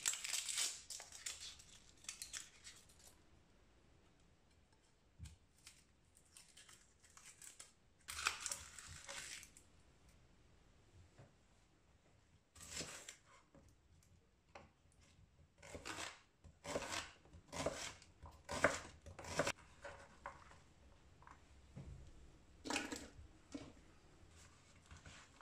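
A knife chops peeled shallots on a cutting board in irregular bursts of close, crisp cuts, with quiet pauses between the runs of strokes.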